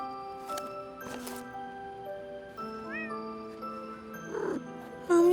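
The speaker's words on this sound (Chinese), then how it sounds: "猫咪从哪里来的？" A small stray kitten gives a few short, high meows, near and fairly clear, over soft sustained background tones, with a brief louder sound at the very end and no one speaking.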